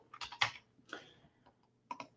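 Computer keyboard typing sounds as a few quiet, close bursts of key clicks in short clusters separated by pauses, in a quiet room.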